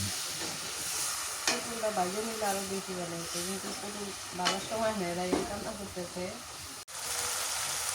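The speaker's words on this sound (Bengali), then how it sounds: "মশলা কষানো হয়ে গেছে এবার মাংস দিয়ে দিই" Spice paste (masala) fries and sizzles steadily in a pan for a potol and meat curry, with stirring scrapes and a voice speaking over the hiss.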